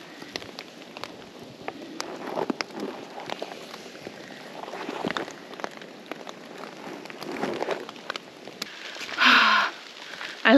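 Rain falling outdoors near a van at a Canada–US border crossing: sparse, irregular drops and light patter on nearby surfaces, soft and close, with a louder rustle near the end.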